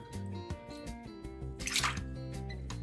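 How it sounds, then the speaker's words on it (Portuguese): Water splashes and trickles as a grimy bathroom floor tile is rinsed after cleaning with vinegar, a close liquid pour with small drips and one brief louder gush, over a steady tonal background. "Agora eu vou enxaguar pra gente ver o que que mudou aqui nesse piso."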